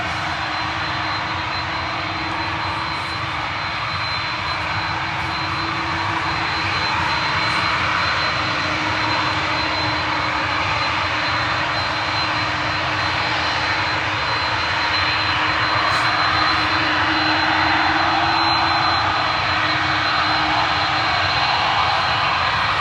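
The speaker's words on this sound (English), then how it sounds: "There it is now, turning 90 degree onto the runway, ready for departure." An airliner turning onto the runway at Manchester Airport produces a steady, loud jet engine roar with a sustained whine, slowly building in intensity across the whole stretch with no voices.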